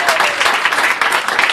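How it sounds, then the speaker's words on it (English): A community rally crowd keeps up steady, dense applause with cheering for the whole short stretch, loud and close. "Let's give a nice round of applause to Senator Spano"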